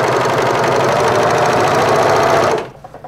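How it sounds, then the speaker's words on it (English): A serger sewing machine hems the bottom edge of a shirt made from a bed sheet, giving off a loud, steady, fast mechanical whir that runs for over two seconds and then stops abruptly. "while I'm at it here with the serger"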